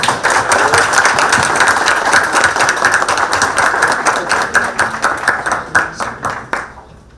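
An audience at a cybersecurity panel applauds with dense, loud clapping that stays steady before tapering off at the end.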